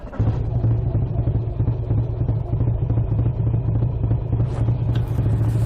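Motorcycle on a club ride to Knighton running with a steady, throaty low rumble close to the microphone, engine note holding constant with a slight rise near the end as it sets off.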